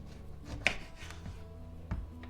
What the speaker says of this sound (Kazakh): Ең бірінші лимонды дәл ортасынан бөлеміз